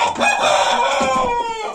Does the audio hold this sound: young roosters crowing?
yes